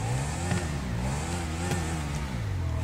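A custom motorcycle fitted with a turbo exhaust revs in GTA V Online, a close, steady engine drone rising and falling in pitch as the throttle is blipped a few times.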